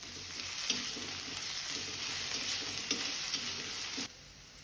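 Ginger garlic paste sizzles with onions in a hot pan for chana masala, a steady close frying hiss with light stirring scrapes, cutting off abruptly near the end.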